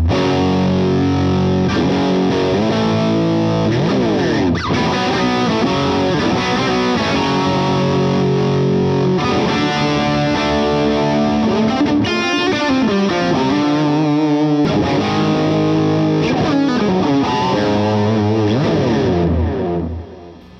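Electric guitar played through a chain of combined effects with heavy distortion, loud and up close, running as a continuous riff of sustained chords and single notes with no voices.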